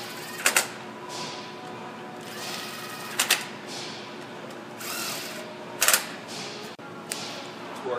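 Bolts on a Ford 5.4L 3V engine being torqued down, heard as three short, sharp mechanical clicking bursts a few seconds apart over a low, steady background hum.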